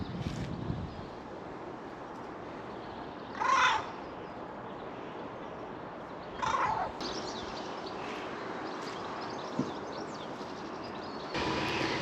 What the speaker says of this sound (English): Very loud birds.